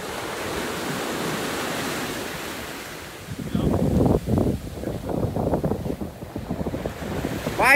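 Sea waves break and wash up on a beach in Ninh Thuan, a steady roar of surf with wind buffeting the microphone, the breaking swells growing louder and more textured in the second half.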